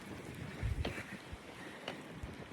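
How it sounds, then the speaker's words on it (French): Strong wind buffets the microphone in bad weather, gusting in faint, rough bursts with a couple of brief thumps, no voices. "En plus il y a trop de vent"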